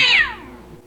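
A kitten gives one short, loud, close meow that rises and then trails off quickly, heard alone.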